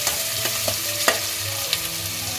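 Onions frying in a pan for prawn biryani, a soft steady sizzle broken by several scraping stirs of a spoon against the pan, heard close with no voices.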